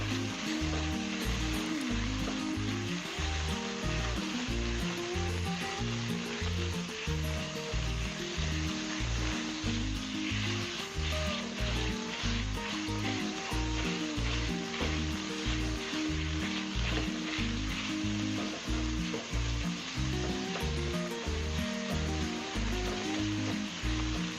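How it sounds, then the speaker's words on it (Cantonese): Minced pork stir-frying with salted fish in a hot wok, a continuous loud sizzle with rhythmic scraping and tossing strokes of the spatula, no talking. "咁我哋就可以落啲豬肉碎落去，繼續炒香佢"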